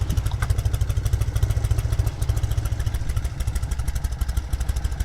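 A restored 1972 Norton 750 Commando Combat motorcycle runs loud and close, its engine pulsing steadily with a rhythmic low throb and mechanical clatter throughout, with no talking.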